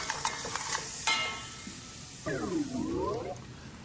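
Finely chopped onions sauté in a pan over medium heat, a soft, quiet sizzle broken by several stirring scrapes and tosses.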